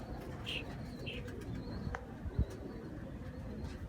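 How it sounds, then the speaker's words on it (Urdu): A golden pigeon coos softly in a loft, a few low murmuring coos mixed with faint chirps and a brief flutter of wings, quiet and close with no talking. "لے جی ایک اور گولڈن کبوتر کا آپ کو شوق کروا رہے ہیں جی"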